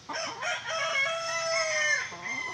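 A five-year-old rooster on a Filipino farm lets out one long, drawn-out crow, close and loud, trailing off at the end with no talk over it.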